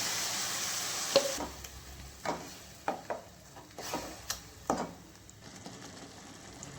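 Onion and tomato masala sautéing in a pan with turmeric and pureed tomato, a soft background sizzle broken by repeated scraping and stirring strokes of a spoon against the pan, roughly one every half second to second.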